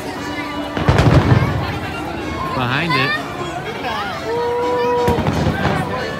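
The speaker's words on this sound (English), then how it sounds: "There are the Pixar fireworks at Disneyland." Pixar fireworks bursting over Disneyland amid a large crowd, loud booming and crackling blasts, whistling rockets and hubbub, with people talking over it nearby.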